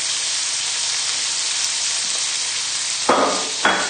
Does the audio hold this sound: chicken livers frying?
yes